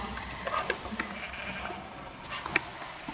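Sheep bleating in an older version of Minecraft, a few faint short bleats against quiet game ambience with no talking.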